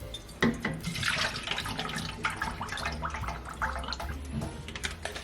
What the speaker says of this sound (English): Just gonna pour the water in my spray bottle